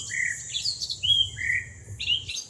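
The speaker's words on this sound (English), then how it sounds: "Now I've got a whole lot of them birds tweeting down here" Layered birds tweet in quick bright chirps and trills, several overlapping calls repeating steadily, close and clear over a faint low rumble, with no talking.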